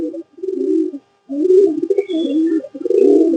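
A pigeon coos close by in a loud, throaty, rolling series of phrases separated by short pauses, with a faint chirp mixed in.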